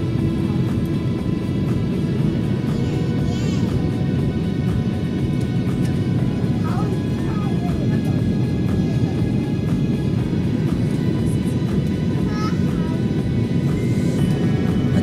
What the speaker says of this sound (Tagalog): lalapat na yung gulong ng eroplano at napakabilis nga naman talaga ng takbo ng eroplano bago ito mapatigil